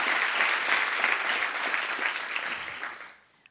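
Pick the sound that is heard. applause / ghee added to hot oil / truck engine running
applause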